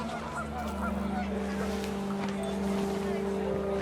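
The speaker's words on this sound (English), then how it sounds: "panicked geese appeared and quickly went" Panicked geese honk amid rising wind in the video game What Remains of Edith Finch, a busy mix of honks over a steady low rumble, with a voice talking along the way.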